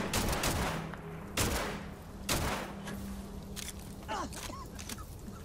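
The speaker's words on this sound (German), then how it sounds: "Warte, da kommt der Schuss." Several sharp gunshots from the video game Starfield ring out, with loud bursts near the start and quieter shots spaced through the rest of the clip.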